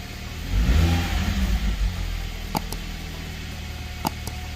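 BMW 1 Series E87 2.0 engine running after an exhaust manifold and catalytic converter replacement, a close revving burst that settles back into a steady idle, with a couple of sharp clicks near the end.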